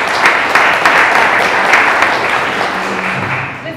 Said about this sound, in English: I just want to give them another round of applause.